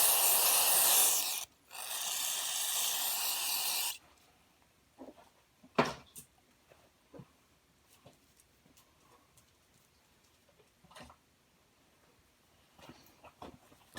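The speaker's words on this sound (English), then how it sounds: "I usually clean it up like a little carburetor cleaner." Carburetor cleaner sprayed onto a Evinrude/Johnson 18/25hp outboard motor during top crank seal work: two loud, close hissing bursts, then quiet handling clatter and a few faint knocks.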